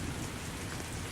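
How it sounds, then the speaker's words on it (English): Steady heavy rain pours in the Roblox game Identity Fraud, a loud, dense hiss of drops on surfaces with no pauses and no voices. "I'm guessing that all this rain is causing a lot of bitrate issues in the stream."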